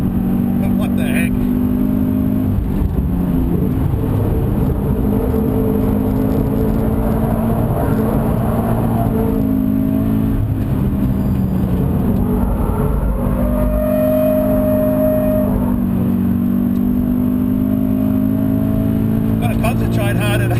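A Subaru BRZ slides sideways around a tarmac race track at speed, its engine droning and shifting pitch continuously from inside the cabin, with tyre noise and someone talking over it.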